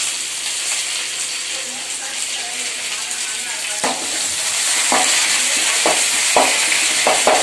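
Onions fry in a pan for a sambar tempering alongside mustard seeds, urad dal, cumin and dried chillies. A continuous bright sizzle builds louder partway through, broken by several sharp stirring scrapes near the end.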